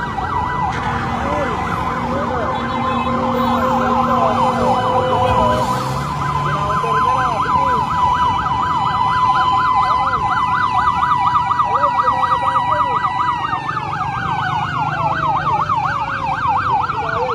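Fire truck sirens wail and yelp at a building fire on Luzon Avenue in Quezon City, several overlapping cycling tones close by and loud over a rumbling engine and crowd noise.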